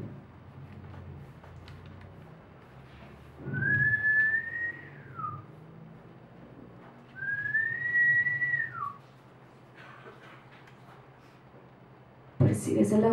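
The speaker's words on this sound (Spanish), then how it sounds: "Silbando." Two long rising-and-falling whistled notes, clear and fairly close, over a soft background hum, with a brief burst of noise at the end.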